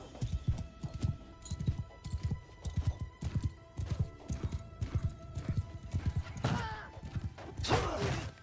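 Horse hooves clip-clop in a steady rhythmic gait in Mount & Blade: Bannerlord, with a whinny near the end and faint mechanical sounds mixed in.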